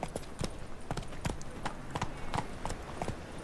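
Roach, Geralt's horse in The Witcher 3, trots with a steady clip-clop of hooves, each footfall crisp and close, repeating in an even rhythm with no talk over it.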